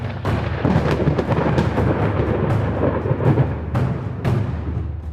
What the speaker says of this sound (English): God sent a plague of hail and lightning.